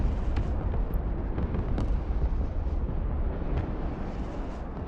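Artillery shelling in the war strategy game Broken Arrow, a dense continuous rumble of explosions with scattered sharper bangs, steady and moderately loud with no talking.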